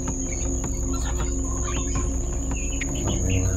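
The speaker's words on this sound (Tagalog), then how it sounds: "Ibon lang." Short bird chirps and calls scattered over a steady background of insect or cricket buzzing, outdoors with no talking.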